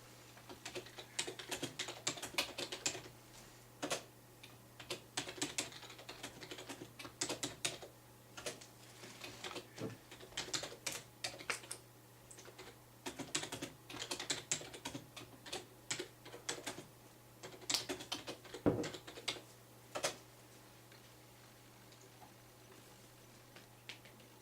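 Names are typed on a computer keyboard, a close, steady patter of irregular key clicks in bursts and pauses for about twenty seconds, no talking.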